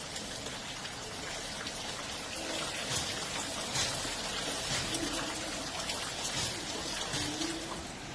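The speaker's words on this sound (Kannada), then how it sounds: "ಸರಪಂಗಾ ನದಿಯಲ್ಲಿ ನದಿ ನೀರು ಭೋರ್ಗರಿತಾ ಇದ್ದು ಹಲವು ಗ್ರಾಮಗಳಲ್ಲಿ ಸಂಚಾರ ಸ್ಥಗಿತವಾಗಿದೆ" Flood water in the swollen Sarabanga River in Tamil Nadu, during cyclone rains, makes a dense, steady rushing roar. It continues unbroken throughout with no voices.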